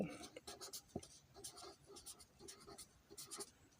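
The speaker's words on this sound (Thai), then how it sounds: "เรามาเขียนใส่" A pen scratches numbers onto paper in short close strokes, interleaved with someone talking quietly.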